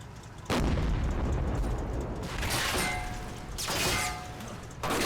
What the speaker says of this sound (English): That's just machine gun fire